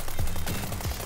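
Rifle fire in the World War 3 video game sounds as a rapid burst of several sharp shots in just over a second, loud and close, with no talk.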